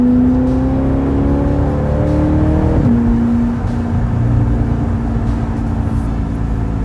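A C8 Corvette fitted with a LeMans Edition exhaust revs hard and loud from inside the cabin, a deep steady engine drone with a pitch that climbs then drops and settles into a low rumbling idle.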